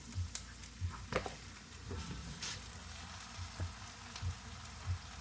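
Pork pata sizzles in hot oil with golden-browned ginger, garlic and onion, a steady quiet frying hiss with soft periodic thumps and stirring clatter, no voices.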